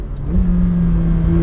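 A McLaren 720S without the optional sports exhaust accelerates, a steady close engine drone building smoothly in pitch and loudness with no voices over it.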